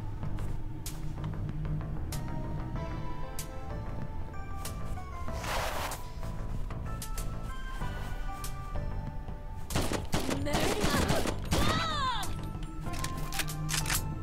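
Rapid gunfire in the video game Wasted, dense shots over a constant game soundtrack with louder, busier bursts toward the end, close and steady throughout.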